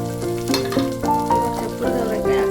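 Onions fry in a pan in a village-style kitchen, giving a steady close sizzle with faint stirring clatter throughout.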